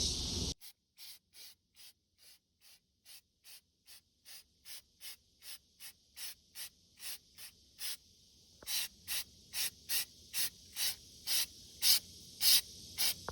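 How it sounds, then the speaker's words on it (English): An aerosol can sprays undercoating in a car's wheel well in a steady rhythm of short hissing bursts, each about a second apart, growing slightly louder toward the end. "Spray this entire wheel well with the HUD Bright on top of the POR"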